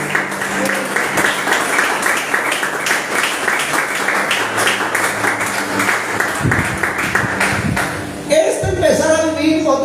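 A church congregation breaks into applause, a busy spread of clapping mixed with voices and music that carries on for several seconds before a brief drop and a sharper burst near the end.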